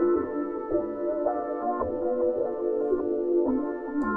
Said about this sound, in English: Then next up, I went into Analog Lab and I picked this Dark West Trap preset.